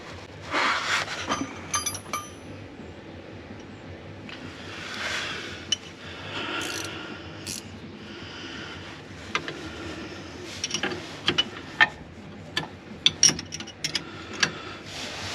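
Wrenches clink and rub on the steering parts under a car, faint scattered metallic taps, ratcheting and scraping at close range, in irregular bursts with quiet gaps between.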